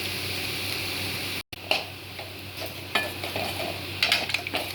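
Elephant foot yam frying in a pan, a steady close sizzle broken by scraping stirs and clinks of a utensil against the metal, with a brief gap early on, no speech.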